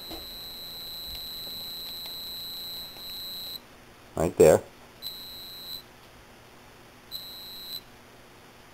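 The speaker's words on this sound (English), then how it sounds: "you're going to back it off until it stops beeping" A high electronic tone from a DIY Velleman K7102RS metal detector pinpointer kit beeps in long steady stretches, breaks off, then returns in shorter pulses, with a brief spoken remark in the middle.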